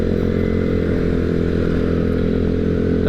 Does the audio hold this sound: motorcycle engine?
yes